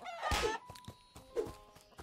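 Chickens cluck in an open-world meme RPG, sounding in two short bursts, each a squawky call over faint game music tones, with no talk.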